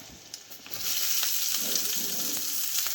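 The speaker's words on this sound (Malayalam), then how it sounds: "ഇനി നമുക്ക് അരിഞ്ഞ് വെച്ചിരിക്കുന്ന സവാള ഇട്ട് കൊടുക്കാം" Chopped onions hit hot oil with green chillies for a Kerala-style egg curry. A close, steady sizzle swells after about a second and keeps crackling evenly.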